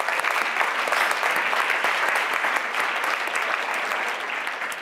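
An audience at an evening session claps to welcome a keynote speaker, a dense, even wash of applause held for about five seconds and tapering slightly at the end, with no voices.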